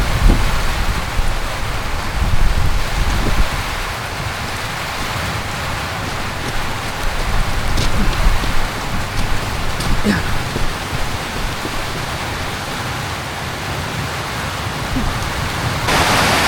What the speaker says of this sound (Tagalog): Maingay kasi yung hampas ng ulan sa tent.